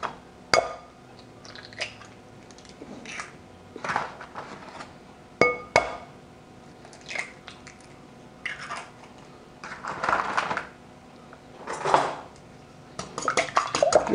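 Eggs are whisked in a bowl for fried chicken batter: a run of sharp metallic clinks and clatters in uneven bursts, close and fairly crisp, with no talking.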